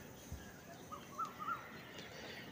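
Pigeons make a few faint, short calls close together, with soft room noise between them and no clear speech.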